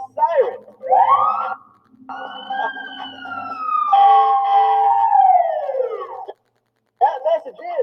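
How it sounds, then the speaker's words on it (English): A fire truck siren rises and falls in long, clear wailing sweeps, loud and close, with speech before and after it and a brief silent gap near the end. "They tell people a message by flashing lights and by using a siren."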